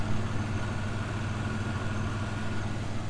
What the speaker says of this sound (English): The engine sounds pretty good too.